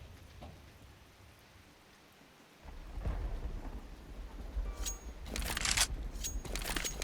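Thunderstorm on a new map in a Valve video game: steady rain hiss under a deep rolling thunder rumble that swells midway, then sharper crackling peals build near the end, with no talk.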